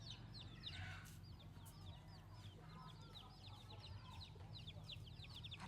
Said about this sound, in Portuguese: Vários pintinhos.